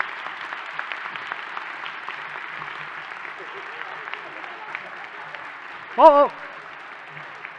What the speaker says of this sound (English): A big round of applause, please, for everybody here.